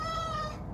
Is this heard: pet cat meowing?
yes